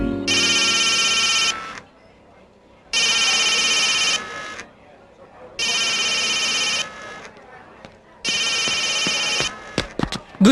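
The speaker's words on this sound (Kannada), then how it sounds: "ಫೋನ್ ರಿಂಗ್ ಆಗ್ತಾ ಇದೆ" A telephone rings in a Kannada film scene, four loud electronic ring bursts in a steady on-off rhythm with quiet gaps between, followed by brief sharp clicks at the end.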